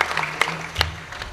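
A few scattered hand claps ring out during a kirtan religious singing gathering. The claps are spaced apart against a quiet, low background hum.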